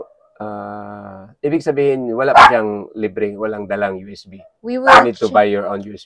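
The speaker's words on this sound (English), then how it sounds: "Excuse my dog." A pet dog barks and yips briefly in a room while a person keeps talking over it during an unboxing of a TAPO outdoor security Wi-Fi camera.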